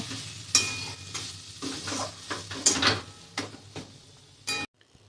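Pumpkin cutlet mixture is mixed by hand in a bowl, giving soft repeated squelching and scraping strokes in an irregular rhythm, close and fairly quiet, with a few light clinks against the bowl.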